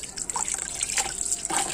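Water is poured into a cooking pot, a close, uneven trickle and splash that rises and falls over a couple of seconds, with nobody speaking.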